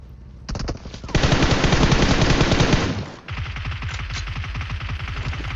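Sustained rapid automatic fire from an M416 assault rifle in a battle royale mobile game, a dense loud burst followed by a steadier rattling stream of shots, close and continuous with no talk.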